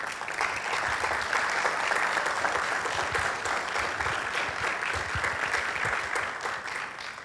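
Steady, dense audience applause after a university talk, sustained at an even level throughout with no voices standing out.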